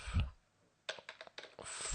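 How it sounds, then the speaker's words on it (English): Keys tapped on a computer keyboard during a hacking course demonstration, a short burst of about six crisp clicks in quick succession, close and clear, with a louder rustle or thump at the start and a soft continuous hiss at the end. "So we type in"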